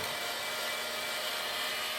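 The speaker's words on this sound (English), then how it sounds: "It's actually a heat gun, but we're gonna kind of slowly warm these stones back up" Steady, even whooshing roar of a heat gun blowing hot air over Andamooka matrix opal stones, constant and fairly close with a faint whine, no talking.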